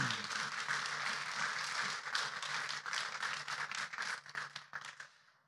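An audience claps for a show's patrons at a birthday event for a Polish talk program. Steady, dense applause holds for several seconds, then thins and fades out.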